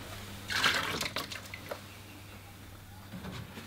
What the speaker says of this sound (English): I'm going to change out my water here.